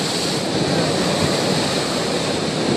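Strong ocean waves crash and roar against the shore in a loud, continuous wash of surf with wind noise, close and steady throughout.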